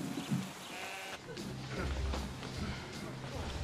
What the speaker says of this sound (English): I've got sheep dying.